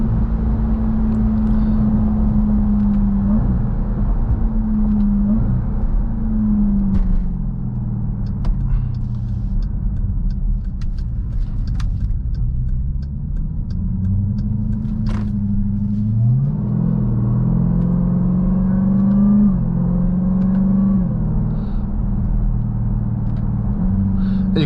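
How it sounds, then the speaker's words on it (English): A loud 2023 Dodge Durango SRT Hellcat 710 hp SUV exhaust drones and snarls as the engine revs climb and drop through several upshifts, with a continuous road rumble underneath. "Those snarls on the upshift out there are just insane."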